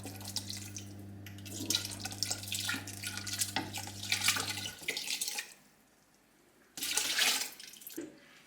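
Plum mixture poured into a pot of slowly simmering water and stirred, a steady watery splashing and sloshing close by with a low hum beneath, then a brief quiet spell before another short burst of pouring.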